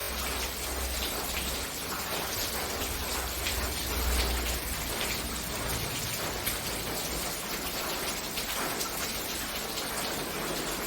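Steady rain pours down in Kerala, a dense, even hiss of drops on surfaces that runs without a break for the whole stretch, with no talking.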